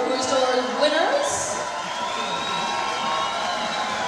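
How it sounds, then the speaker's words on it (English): A large crowd cheers and applauds for the Bocuse d'Or cooking competition winners in Lyon, a dense, loud wash of whoops and shouts carrying steadily throughout with a sustained high whistle-like tone above it. "a huge round of applause for the Bocuse d'Or winners"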